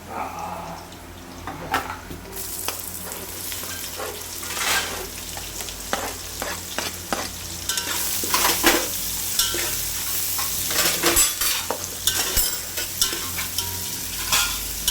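Onion sizzles steadily in a hot pan for chicken pulao, with frequent scraping stir strokes and crackling spatters that grow busier partway through, close and fairly loud.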